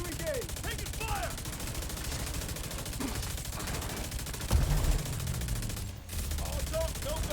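Ongoing gunfire in The Division 2, bursts and scattered shots blending into a steady background of combat, with an occasional heavier thump, while game voices call out.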